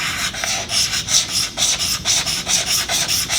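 A hand scraper rasps the oxidized surface off a plastic pipe while it is prepared for a NUPI Electrolet saddle fitting, producing quick, even back-and-forth scraping strokes, about four per second, close and steady with no talking.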